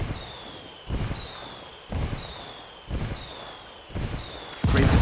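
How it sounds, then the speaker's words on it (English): Rebel indirect fire strike in Ghost Recon Wildlands: a string of regular heavy impacts, about one per second, each preceded by a descending incoming whistle, ending in a louder, closer blast. "I called the rebels for some indirect fire"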